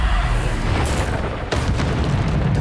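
Bombarda blasting spell in Hogwarts Legacy, a video game: a booming explosion with a sharp burst about halfway through, set against steady loud rumbling game noise, no voices.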